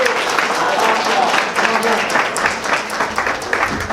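An audience at a Muslim League of Voters gala dinner gives a speaker another round of applause, a short burst of dense, even clapping at full strength throughout.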